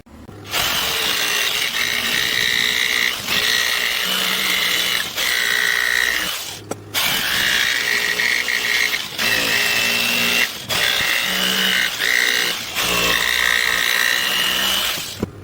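A power saw whines loudly and steadily as it cuts through a wooden board for a cornhole board, in several long passes with short pauses between.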